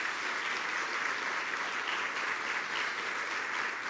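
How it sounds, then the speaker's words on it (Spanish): A church congregation at a Sunday service claps steadily, a continuous wash of many hands that is fairly quiet and distant, without talk on top. "Dale un fuerte aplauso al Señor."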